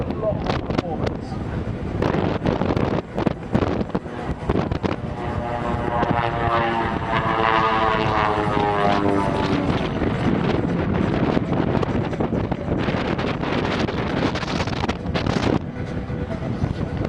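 Propeller aircraft flying at a seaside air show, a modified machine lighter and more powerful than stock, droning loud and steady throughout with wind buffeting the microphone and a voice talking over it.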